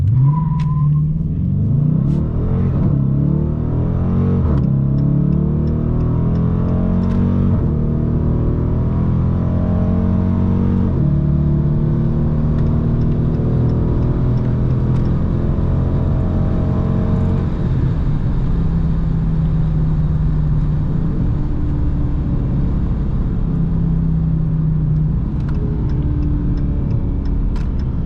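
A 2019 Dodge Challenger R/T with its 5.7-litre Hemi V8 accelerates hard on a busy Autobahn, the loud engine roar climbing through gears in repeated rising sweeps, heard from inside the car with no talk.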